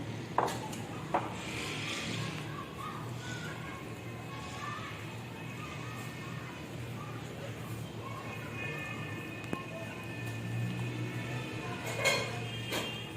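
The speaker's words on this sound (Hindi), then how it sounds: "अब इसको मिक्स कर लेंगे पहले।" Dahi is mixed in a bowl with a spoon. Soft stirring and a few light clinks sit under a steady background hiss.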